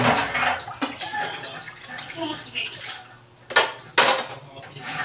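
Tap water runs into a kitchen sink, a steady hiss with occasional clinks, fairly close and moderately loud, with a few louder splashy bursts near the end; no one speaks over it.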